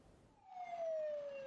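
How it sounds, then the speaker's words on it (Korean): During a fire drill at Namwon public market, a fire truck's siren rises into a clear, loud wail with a slowly sliding pitch as the truck squeezes through a narrow market alley. "소방차가 비좁은 시장 골목을 힘겹게 통과합니다."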